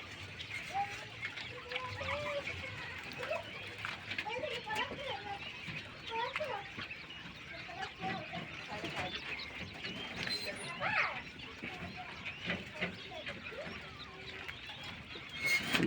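King quails on a small farm give short, soft chirps and peeping calls throughout, with clucking and a low background murmur, and someone talks at times.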